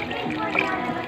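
Water being poured into a simmering pot of vegetable soup, a steady liquid rush that runs the whole short moment, close and fairly loud.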